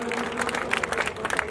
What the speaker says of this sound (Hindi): एक बार बजा दे अपने छोटे भाई के नाम से जोरदार ताली